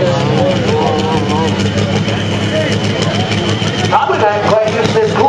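A pro street diesel truck engine idles steadily at a truck pull event, a loud rough rumble nearby, with a commentator talking throughout over it.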